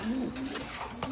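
Pigeons coo low and steady in a breeding loft, a near, continuous throaty hum broken by a few soft rustles and taps.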